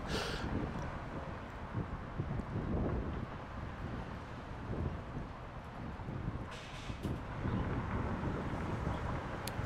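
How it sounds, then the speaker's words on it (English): Strong wind buffets the microphone outdoors at a construction site, a steady low roar with gusts swelling and easing throughout, no talk. "Really windy."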